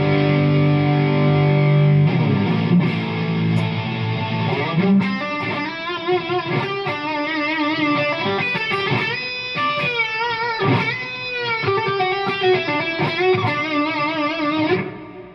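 An electric guitar plays a lead line through a Line 6 Pod Go patch with gain, delay and reverb, distorted sustained notes and quick runs ringing out with echoing tails after a held opening chord.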